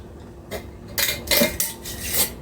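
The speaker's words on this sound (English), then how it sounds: "I'm just going to get like a teaspoon out of here" Metal teaspoon scraping and clinking against a container while scooping an ingredient for steel cut oats, several short close scrapes and taps in quick succession.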